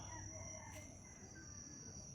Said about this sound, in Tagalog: Oh, mga manok labuyo ron ba?